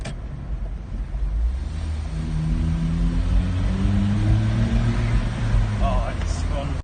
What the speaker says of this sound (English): we're going to have a lot of fun here with some noise from the car.